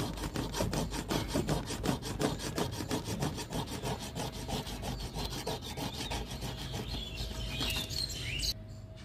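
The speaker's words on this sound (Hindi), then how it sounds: "इस पॉइंटेड साइड को हमें घिसना होगा सैंड पेपर में।" A lotus seed's pointed end is rubbed back and forth on sandpaper, giving a steady rhythmic scraping rasp that repeats in quick strokes for several seconds, close and fairly loud, with faint bird chirps behind.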